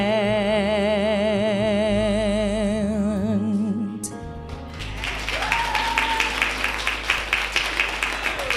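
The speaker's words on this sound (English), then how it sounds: "Can everybody give her another round of applause?" A sustained sung hymn ending with held notes gives way to an audience bursting into dense, steady applause that continues loudly to the end.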